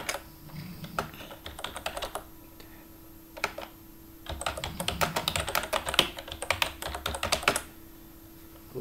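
Fast typing on a computer keyboard during a WordPress theme demonstration, close and clear: rapid bursts of key clicks separated by short pauses, with a dense run of keystrokes in the second half and no talking.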